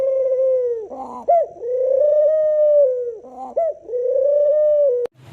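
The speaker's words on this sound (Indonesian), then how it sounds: "lihat, ini adalah burung" A pink toy bird gives repeated cooing, pigeon-like calls, two warbling phrases of steady tones cut off by a sharp click at the end, close and loud with no talk.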